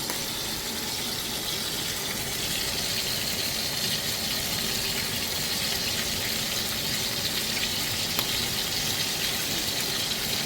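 Chicken pieces fry skin side down in hot oil for coq au vin, giving a steady, dense sizzle that holds evenly throughout with no talking.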